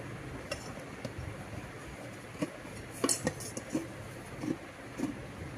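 A metal cooking pot and its lid are handled, with scattered light clinks and clanks of contact, moderately near, over a low room background and soft speech.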